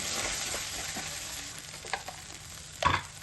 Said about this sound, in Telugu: 1 స్పూన్ ఆఫ్ అల్లం వెల్లుల్లి పేస్ట్ వేసి దాంట్లో ఉన్న పచ్చివాసన పోయేంత వరకు మంచిగా డీప్ ఫ్రై చేసి